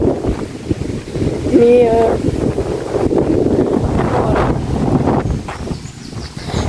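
Wind buffets a microphone outdoors, a steady low rumbling roar throughout, with a voice speaking briefly over it.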